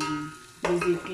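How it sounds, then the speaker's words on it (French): Cooking juice is poured into a simmering tomato sauce, bringing a sudden, close burst of sizzling and bubbling partway through after a quieter start. "je vais verser le jus de cuisson et puis je laisse bouillir un peu plus longtemps"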